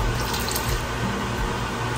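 Water is poured into a cooking vessel in a steady, loud rushing stream, close by and alone, lasting the full two seconds.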